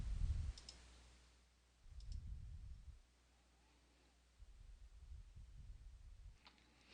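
Mouse clicks in a script editor's dictionary window, a few short faint ticks scattered through a quiet passage with low rumbling stretches between them.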